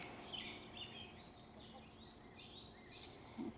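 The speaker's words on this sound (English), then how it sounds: "I don't know if you can hear all the birds outside" Small birds tweet outdoors on a May morning near chicken houses. Their chirps are faint and scattered over a steady background hiss, with no talking.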